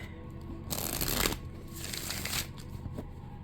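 Close-up tarot card shuffling comes in two riffling bursts, soft papery flicks and rustles with a short gap between them and a quiet tap at the end.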